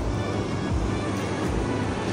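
Ocean waves on a beach in Bali, a continuous loud wash of surf with low rolling swells and wind buffeting the microphone, no speech.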